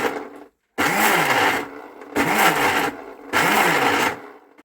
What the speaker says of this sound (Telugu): ఇట్లా మిక్సీలో వేసి పల్స్ మోడ్లో ట్రై చేసి చూస్తా